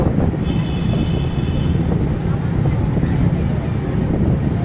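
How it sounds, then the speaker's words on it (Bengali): Strong wind and heavy waves buffet a ship at sea on the Saint Martin's to Cox's Bazar route, a continuous loud rushing roar with faint brief whistling tones riding over it. "প্রচণ্ড ঢেউ।"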